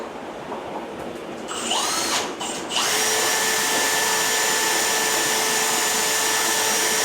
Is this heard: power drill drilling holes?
yes